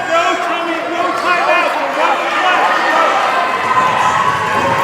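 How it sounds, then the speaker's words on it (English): Crowd noise rising and falling at an 8th grade boys basketball game late in a tied contest, a steady loud roar of voices and cheers with sneaker squeaks scattered through the whole stretch. "The crowd getting into it."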